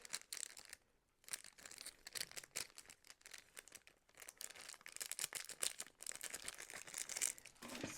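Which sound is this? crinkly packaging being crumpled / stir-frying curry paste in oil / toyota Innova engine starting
crinkly packaging being crumpled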